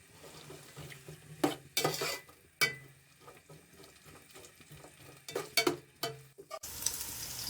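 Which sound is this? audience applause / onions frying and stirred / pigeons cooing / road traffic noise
onions frying and stirred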